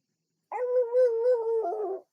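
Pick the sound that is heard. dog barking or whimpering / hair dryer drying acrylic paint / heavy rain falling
dog barking or whimpering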